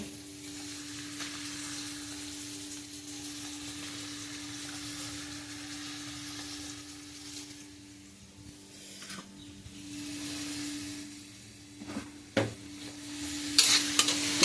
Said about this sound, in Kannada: ಟೊಮೆಟೊ ನೀರುಳ್ಳಿ ಸ್ವಲ್ಪ ಫ್ರೈ ಆಯಿತು